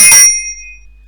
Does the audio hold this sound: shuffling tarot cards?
no